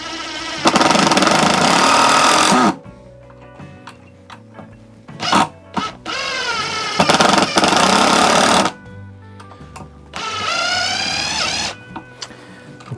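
A Stanley FMC645B impact driver with a PZ2 bit drives a screw in three loud bursts of rapid hammering, separated by quieter pauses with small clicks and handling noise.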